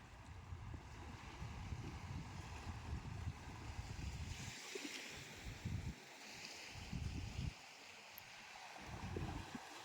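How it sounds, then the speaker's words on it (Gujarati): Ocean waves wash onto a clean beach in Gujarat, a continuous soft roar of surf with swelling surges and gusty wind noise, faint and steady throughout, no voices. "જે વેવ્સ આવે છે એનો સાઉન્ડ જે આવે છે that is very pleasing."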